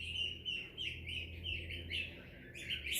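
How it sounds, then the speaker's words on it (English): Baby birds on a small homestead chirp constantly, with high, close, overlapping tweets in quick bursts and a faint low hum underneath. "let's go check on the baby birds"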